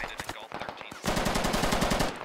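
Machine gun fire in the Squad military shooter game, first a few scattered rapid shots, then a loud sustained burst of quick rhythmic automatic fire, close and dominant with no clear talking.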